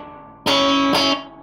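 Electric guitar plays the intro to a song, two bright strummed chord hits in quick succession, loud and close with a driven tone, after a ringing tail; no voices.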